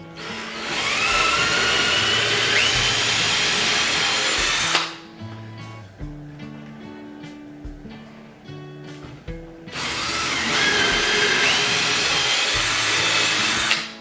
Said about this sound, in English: we're going to drill through, because these screw holes only go in the front of the face